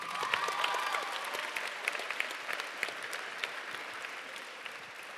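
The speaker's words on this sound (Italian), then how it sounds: "Un applauso!" Audience applause in a hall during a school event about legality, dense clapping from many hands that holds steady for several seconds, with a few sharper individual claps.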